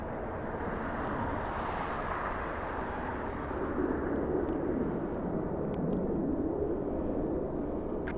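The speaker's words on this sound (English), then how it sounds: "we're gonna wait for the liftoff of the Dreamliner" A Boeing 787 Dreamliner takes off at LAX, heard as a heavy continuous jet roar that swells slightly as it goes, a broad rumble filling the air with no talking over it.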